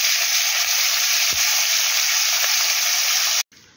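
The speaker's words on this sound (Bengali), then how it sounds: "ওইদিকে তো চিংড়ি মাছ ভাজা হচ্ছে" Prawns frying in smoking-hot oil in a wok, a loud, dense, continuous sizzle close by that cuts off sharply near the end.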